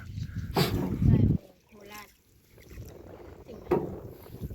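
A small boat pulls in to a riverside home on the water, with water splashing and rippling near the hull between louder bursts, and a voice speaking over it in places.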